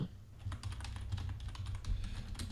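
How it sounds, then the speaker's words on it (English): Rapid, quiet clicking of keys on a computer keyboard, a continuous run of irregular taps with no talk over it. "it's just us typing things into Google all episode. Click, clack, click, clack."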